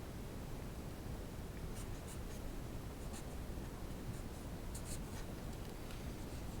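Equations written on a board during a lecture on the potential inside a rectangular pipe: faint, scratchy marker or chalk strokes in short bursts over steady room hiss, with no talking.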